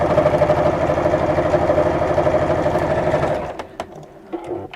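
A sewing machine stitches fabric in a steady, fast run close by, then stops abruptly near the end, leaving a few faint clicks and handling sounds.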